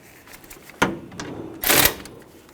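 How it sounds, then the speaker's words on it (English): Ratchet with a 10mm socket loosening the side bolts holding the AC condenser and radiator on a 2004-2012 Chevrolet Colorado 3.7L, giving two short bursts of close, loud clicking with a quieter stretch between them. "We're going to use a 10mm socket."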